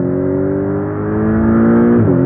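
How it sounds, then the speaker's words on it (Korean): A Porsche 718 Boxster GTS accelerates hard with its boost mode engaged, the engine note rising steadily and loud and close, with a brief gear-change dip near the end. "좀 더 뒤에서 공기도 좀 더 빨아들이면서 슉 소리가 나면서 딱 튀어나가는 느낌이"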